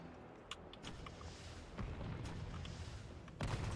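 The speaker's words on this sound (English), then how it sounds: "He stopped to fire the rocket instead." Nemesis fires a rocket launcher in Resident Evil 3, heard as low rumbling booms and blasts that swell in the middle and again near the end, set among sharp in-game clicks and impacts at a moderate level.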